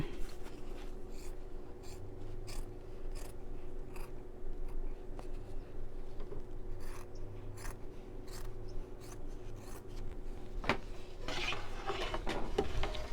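Scissors trimming machine embroidery out of a hoop, with repeated soft snips and rustling fabric over a low background hum, close and quiet, and a few sharper clicks toward the end.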